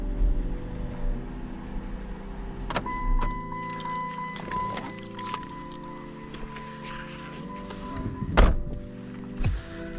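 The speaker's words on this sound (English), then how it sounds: "This thing goes into gear nice." A Chrysler 300 transmission clunks into gear with a couple of sharp thunks over a steady idling engine and a faint whine, heard close inside the car with no talking.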